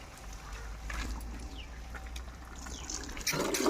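Water sprayed onto a motorbike during a home bike wash: a steady hissing, splashing spray runs throughout over a low rumble, getting louder and harsher in the last half second as the jet hits closer.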